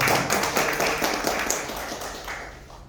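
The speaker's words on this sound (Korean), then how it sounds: "다시 한번 감사의 박수 한번 보내드립니다" A congregation at a national prayer meeting gives a round of thankful applause, crisp close clapping that starts full and slowly tapers off over about three seconds.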